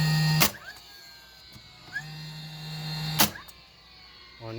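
A Dewalt DCN650 20V cordless 15-gauge nailer drives 2.5-inch nails into shelving, each shot a sharp, close bang separated by the motor's whirring hum and brief mechanical whine between firings.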